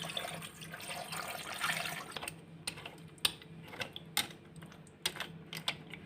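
Water pours into a tagine of pasta as a steady close splashing stream for about two seconds, then gives way to scattered clicks and clinks of kitchenware.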